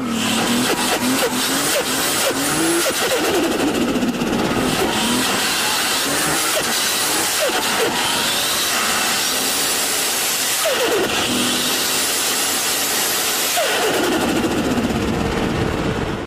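A turbocharged car engine with a blow-off valve, loud and close, with a sustained roar and repeated fluttering whooshes as the turbo spools and the valve vents, no talk over it.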